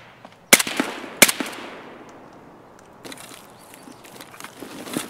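Two sharp, loud gunshots in Escape from Tarkov crack out about a second apart, followed by echoing tails and fainter scattered pops and shuffling sounds later on.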